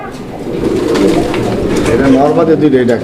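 A close Arabian Koka pigeon gives a run of soft rolling coos, with a steady low hum beneath.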